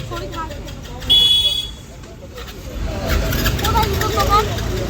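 A bus passes along a rainy shopping street, its engine rumble swelling amid traffic, a brief horn toot and background chatter, with people talking nearby.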